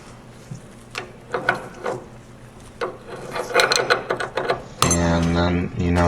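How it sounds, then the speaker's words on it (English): A bolt being turned with a ratchet while separating a lower ball joint on a Ford F150, with close rasping clicks in bursts followed by a loud sustained grinding, metallic rattle. "So I'm just tightening up that bolt until you hear it pop."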